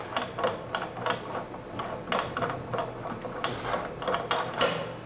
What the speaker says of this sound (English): all you have to do is you unscrew it from here